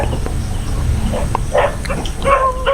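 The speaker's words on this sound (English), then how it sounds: "You still hear those dogs barking from where I came from." Dogs barking in the woods near Lawaan in the Philippines, a few scattered barks and yips at middle distance over a constant outdoor background hum.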